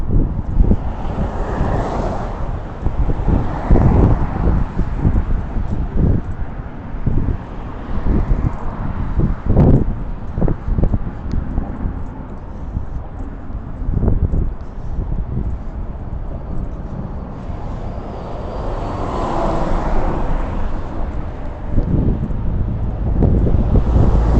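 Wind gusts through an outdoor microphone on a night walk, a steady low rushing roar with louder buffeting surges, continuous throughout and alone with no talking.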